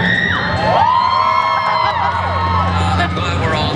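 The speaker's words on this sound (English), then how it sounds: "please feel free to throw out a cheer" Convention audience at a Gotham cast panel cheers and whoops in a loud, sustained crowd roar with shouts and yells throughout.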